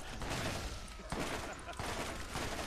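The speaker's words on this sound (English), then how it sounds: "That fire is insanely fast for a pistol" Rapid pistol fire in the video game Borderlands: a dense, continuous stream of shots with sharp bursts over steady game noise, heard over voices talking.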